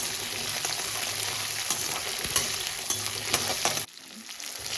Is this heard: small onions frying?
yes